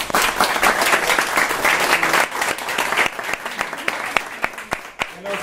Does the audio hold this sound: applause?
yes